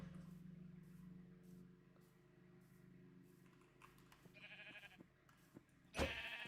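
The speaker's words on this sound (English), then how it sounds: "Sheep!" Sheep bleat in the video game Mayview, a couple of short calls sounding amid quiet game ambience and soft keyboard tapping, fairly faint and close.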